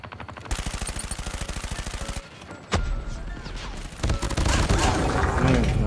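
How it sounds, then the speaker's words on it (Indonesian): Gunfire in the mobile shooter Call of Duty Mobile: a rapid automatic burst of evenly spaced shots, a sharp single blast, then more loud overlapping fire and game effects, with a voice briefly talking over it. "Ah, siapa itu yang nembak?"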